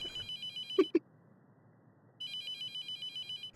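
A telephone rings in a video game set around a mortuary. Two bursts of electronic ringing with a repeating pulse are separated by a quiet gap, and two soft low knocks fall in between. No one talks.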